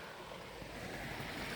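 The River Monnow in the Welsh Marches of Monmouthshire flows steadily in a broad, even wash of water noise, with wind buffeting the microphone throughout.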